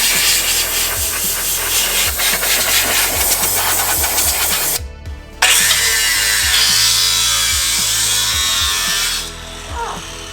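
A cutting wheel grinding through the rubber body mount of a 5th-gen Toyota 4Runner, a loud close continuous rasping whine with rhythmic pulses, briefly stopping then resuming steadily before tapering at the end.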